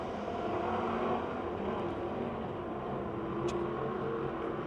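Race cars roaring around Pennsylvania Motor Speedway in Pittsburgh during an April 2008 race, a dense continuous engine drone with a slight rise and fall as the pack passes, loud and unbroken with no voices.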